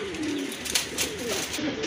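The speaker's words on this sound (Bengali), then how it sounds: "খুব সুন্দর এক জোড়া কবুতর" A pair of Jalali pigeons coos softly and steadily at close range, with low wavering calls running through the whole moment over a busy background hum.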